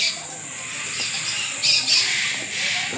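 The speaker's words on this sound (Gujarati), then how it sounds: "આ જંગલી કુકડો છે" A jungle fowl calls at a zoo, a bright, fairly close cry rising in two short bursts over a steady hiss of birds and ambient noise, with no talking.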